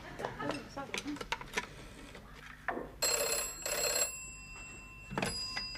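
A telephone bell rings in a home in two loud bursts between short bits of conversation, with voices before the rings and again after them.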